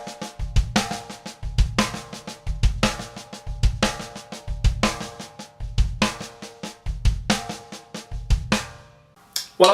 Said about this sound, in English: Replacing the last diddle with the foot sounds like this.